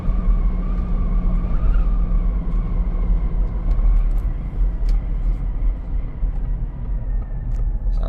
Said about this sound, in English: Hear that wind noise, and it might be from the top here.